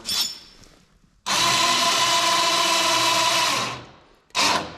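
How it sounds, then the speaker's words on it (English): An electric winch on a John Deere 317 lawn tractor whirs loudly for about two and a half seconds while lowering a sleeve hitch, then stops and gives a second short burst after a pause. "I can come straight out the back and use the winch that way."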